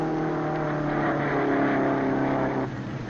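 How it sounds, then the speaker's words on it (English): A 1952 hot rod jalopy engine runs at a steady loud drone, racing close by, with the tone dropping slightly near the end and no talk over it. "Here's Mel and the jalopy."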